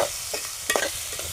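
Onion is stirred in a pan over low heat, a steady close sizzle with a couple of brief scraping strokes of the spoon partway through, no voices.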